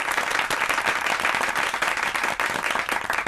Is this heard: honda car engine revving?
no